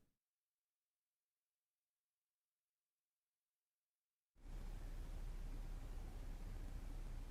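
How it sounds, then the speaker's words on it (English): Steady, loud white noise hisses in a Nintendo Switch 2 reveal teaser, starting abruptly after several seconds of near silence and then holding evenly to the end. "White noise."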